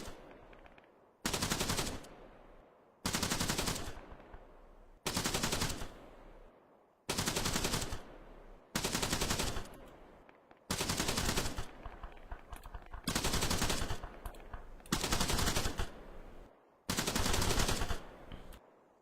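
Sustained machine gun bursts in a military simulation video game, about nine long loud bursts repeating at a steady rhythm with short gaps between them, with no talking.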